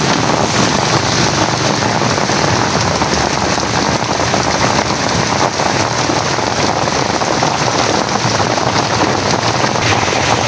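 Heavy tropical rain pounding steadily on surfaces at a roadside stall in the Philippines, a dense, loud, unbroken hiss of falling water with some wind buffeting the microphone.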